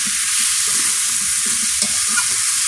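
Pointed gourd pieces sizzle loudly in hot oil in a pan with garlic and chillies, giving a steady, close frying hiss with faint stirring scrapes beneath.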